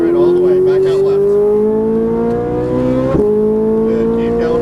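A Ferrari 458 on a race track pulls hard through its rev range, the engine note climbing steadily in pitch and staying loud and close, with a gear change midway and an instructor talking over it.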